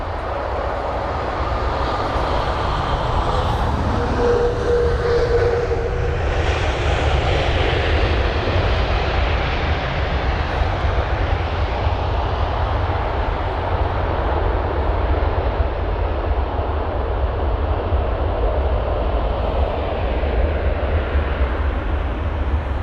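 An airliner, registered in 2015 and arriving at London Heathrow after a 12-hour flight from Shanghai, roars as a loud, broad, continuous jet engine rush that holds steady for over twenty seconds, with no talk over it.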